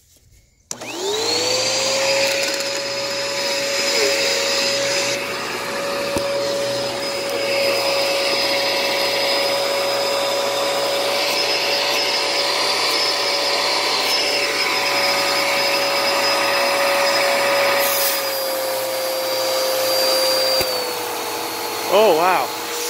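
A Bissell PowerForce Helix 2191U upright vacuum cleaner, clogged at the base of its hose, starts up and runs steadily with a loud whine and hum for about twenty seconds, then winds down at the end.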